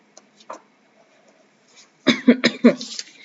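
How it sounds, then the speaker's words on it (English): A few faint throat sounds, then a burst of several loud, close coughs in quick succession. "Apologies for the cough."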